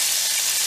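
Gözleme flatbread frying in oil in a pan gives a steady broadband sizzle and crackle, with a brief louder hiss near the end as the flatbread is handled.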